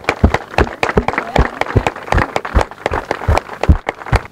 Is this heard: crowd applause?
yes